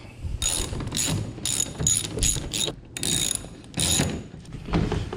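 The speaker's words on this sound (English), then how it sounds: "All right, I got 11mm ratchet over here. I'm gonna tighten" An 11mm ratchet tightens a bolt down to the track on a Boonedox build, giving close, loud bursts of rapid clicking separated by short pauses.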